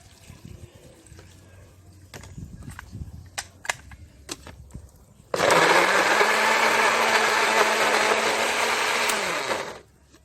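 After a few clicks and light handling noises, a blender blending jackfruit with a little water roars loudly for about four seconds, its motor whine holding steady, then winds down.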